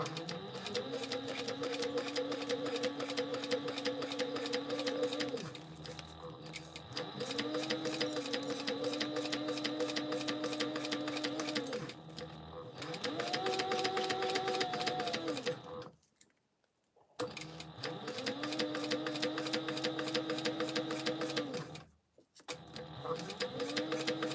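A sewing machine stitching a backpack, running in several steady whirring bursts of rapid needle clatter, with short stops between seams and a brief silent gap, close and loud with no talk.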